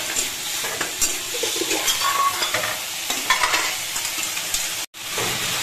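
Malabar spinach stems cooking with a fried fish head in a pan give a steady, close sizzle with frequent stirring scrapes and clinks throughout, pausing briefly near the end before the frying resumes.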